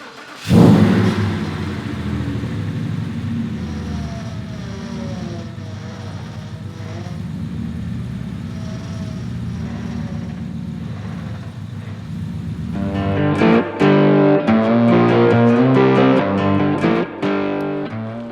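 A Ford Raptor truck, freshly fitted with a replacement Lee power steering pump, cranks and fires with a sharp burst, then settles into a steady idle hum before the engine revs up louder and rougher toward the end.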